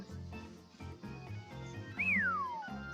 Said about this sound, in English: I can't actually whistle, that was just a sound effect